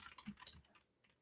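Several quick, quiet keystrokes tap on a computer keyboard in a brief burst that fades into near silence.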